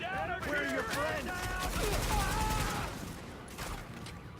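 Sustained heavy gunfire from the video game The Division crackles steadily in the background, a dense fusillade under radio-style voices and game chatter.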